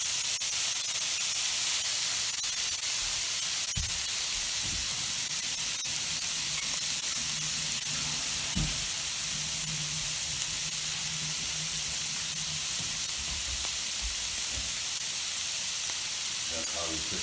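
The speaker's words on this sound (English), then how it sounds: "That's how we cook it. Grill it in the pan like that." Octopus grilling in a hot pan for a Spanish octopus dish, giving a steady, bright, close sizzle throughout with a few soft knocks and scrapes, no talk.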